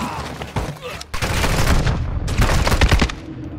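Bursts of automatic gunfire in DMZ, loud and close, come in rapid volleys with a brief gap after the first second, then heavier sustained firing.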